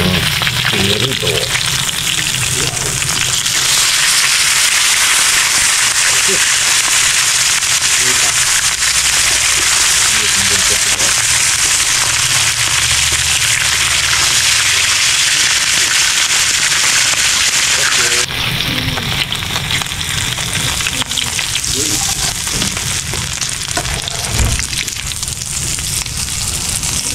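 Tanigue fish frying in hot oil makes a loud, dense, continuous sizzle and crackle that runs the whole length, with a slight shift in texture partway through.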